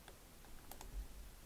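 A computer keyboard is typed on while working in CorelDraw. A few quiet, close, separate key taps click over faint background hum.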